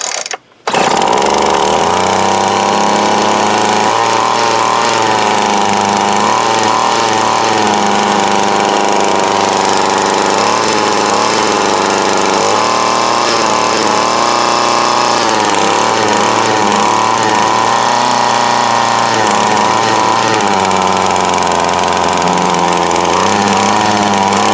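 An old 2004 Craftsman 32cc gas string trimmer runs loud and close after a brief starting sputter, its two-stroke engine droning continuously at a steady, slightly wavering pitch with no talk over it.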